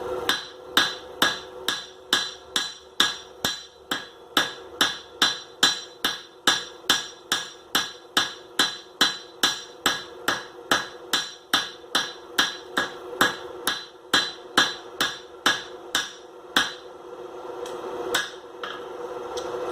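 Blacksmith's hammer strikes hot iron on an anvil in steady, rapid blows, about thirty sharp ringing impacts close by, pausing briefly near the end before a couple of final hits.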